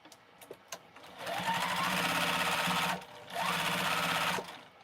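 A sewing machine stitching a foundation paper piecing quilt block, two loud rapid bursts of stitching separated by a short pause, preceded by a few light clicks.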